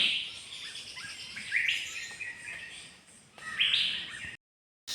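Birds chirp in bright bursts, several quick tweets rising over a quiet outdoor background before the sound cuts off abruptly.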